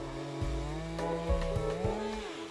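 A Stihl MS 201 to MS 462 class chainsaw of 50 to 72 cc runs while cutting wood in high-altitude logging, its engine droning steadily with pitch shifts and revs under load, with no voices.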